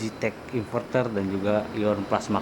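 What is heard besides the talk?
No everyday noises stand out.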